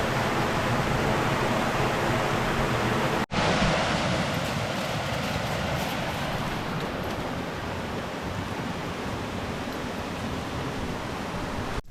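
Steady roaring rush of Dismal Falls waterfall, loud and continuous, with a brief cut partway through and no voices.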